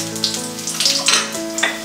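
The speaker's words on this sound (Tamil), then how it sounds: "இதை லைட்டாக ஒரு நிமிஷம் மட்டும் வதக்கிக்கோங்க." Ginger, garlic, dried red chillies, chana dal and cumin sauté briefly in hot oil, giving a short, close sizzle with splashy bursts over a steady tonal hum.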